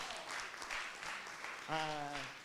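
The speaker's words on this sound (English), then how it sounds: "can we have a big round of applause for our Sydney, Melbourne, our Melbourne friend" An audience at a Sydney cabaret-style film night claps steadily and fairly quietly throughout, with a voice talking over the applause partway through.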